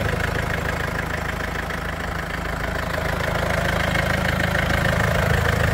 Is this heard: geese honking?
no